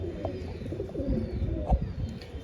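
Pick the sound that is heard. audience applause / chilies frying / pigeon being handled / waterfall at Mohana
pigeon being handled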